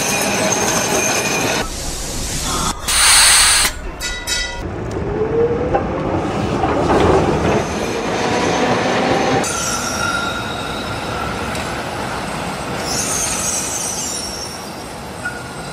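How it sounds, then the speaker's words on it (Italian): Trieste's number 6 tram runs on its rails with loud rumbling, clattering wheels and sharp squeals through turns, the noise rising and shifting as it travels. "il tram era in sede propria, fino a Barcola"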